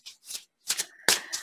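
Tarot cards are shuffled in several quick riffling bursts separated by short pauses, close and crisp, with no talking.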